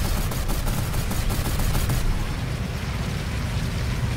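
Turret gunfire in the video game Gear Up comes as a dense, rapid, loud burst of shots that breaks off halfway, leaving a rumbling, noisy game background.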